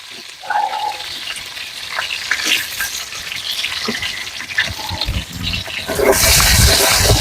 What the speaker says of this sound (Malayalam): വെളുത്തുള്ളി ഇഞ്ചിയൊക്കെ നല്ല മൂത്ത് വന്നിട്ടുണ്ട്.